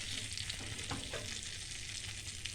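Steady, crackling sizzle of food frying in a pan, with a couple of brief clinks near the start and no voices.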